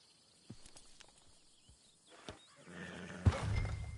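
A horse in a video game snorts and whinnies, faint at first and then louder near the end, with scattered hoof knocks.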